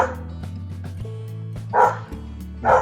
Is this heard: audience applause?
no